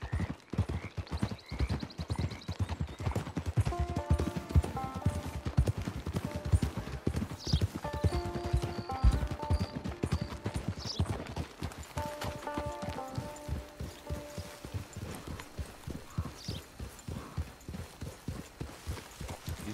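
Horse hooves clip-clop at a steady walking rhythm on a trail, close and continuous, with a few whinnies and faint background sounds mixed in.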